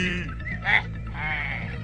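A goat grazing near a forest gives one short bleat over a steady low background.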